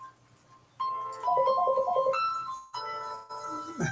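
A mobile phone rings with a melodic electronic ringtone, a rising and falling tune repeating in two bursts, loud and close during an indoor talk-show interview, with no speech over it.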